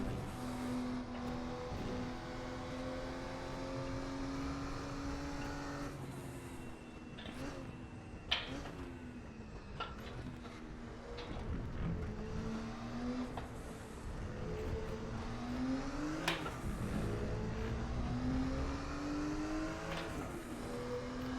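A Porsche 934 RSR in RaceRoom drones through corners with a steady, rising and falling engine note, faint and continuous, with occasional gear shifts and brief clicks over about twenty seconds.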